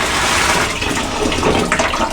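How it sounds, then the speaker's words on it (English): Water runs and splashes steadily into a bucket for washing a wig, a close, continuous pouring rush with no talk. "Put about that much water in the bottom of your bucket, just enough to submerge the wig"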